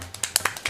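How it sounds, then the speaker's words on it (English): A quick burst of about six sharp hand claps or taps in under a second, close and dry, irregularly spaced over a faint low hum. "Can you clap that fast?"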